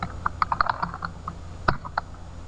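Close computer keyboard typing in a quick, uneven burst of clicky keystrokes, a pause, then a few more taps, with no voices.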